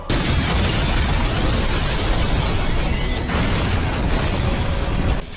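The Covenant Scarab in Halo is destroyed with a loud, sustained explosive roar, dense rumbling and crackling debris holding steady for about five seconds before cutting off abruptly.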